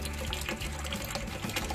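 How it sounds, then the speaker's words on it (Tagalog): Water spills steadily from an aquarium filter outlet into a crayfish tank, a continuous close splashing and gurgling stream with no pauses. "sa may nahuhulog na tubig. Ayan, na galing sa aming water filter"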